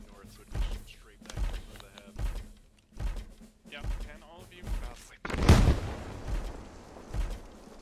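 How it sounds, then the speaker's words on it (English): A single heavy, booming blast from a grenade going off in the Starship Troopers video game lands partway through, surrounded by repeated dull thuds of game combat while people talk. "Grenade out."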